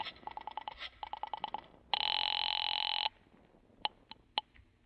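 A telephone rings once in a radio drama, a single loud electronic burst of about a second standing alone between lighter clicks and taps before and after.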